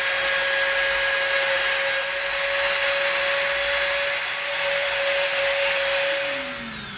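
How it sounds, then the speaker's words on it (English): A Dremel rotary tool whines steadily and loudly while rounding off and tapering the edges of EVA foam, one continuous high-pitched grinding run that fades out near the end. "now we're going to get our Dremel out and we're going to slightly round off the edges so it tapers"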